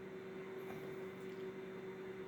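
A microwave oven runs with a steady, faint electrical hum, a constant tone droning on without change nearby in a quiet room.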